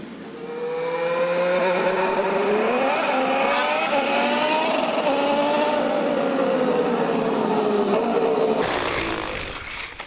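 A loud, high-pitched 2014 Formula 1 1.6-litre V6 engine drones steadily with shifting pitch, revving up and down during pre-season testing at Jerez, then cuts off abruptly near the end.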